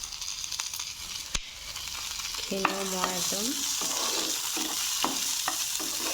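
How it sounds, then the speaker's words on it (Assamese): Green chillies and tomatoes frying in a pan give a steady close sizzle with spoon stirs and clinks, while someone speaks briefly over the cooking. "কেঁচা জলকীয়া এইখিনি অকণমান চটে কৰি ল'ম মই ইয়াতে এতিয়া বিলাহীখিনি দি দিছোঁ"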